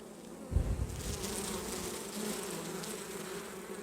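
Honey bees buzz steadily at an open hive after the honey harvest, a dense close drone with one brief thump near the start.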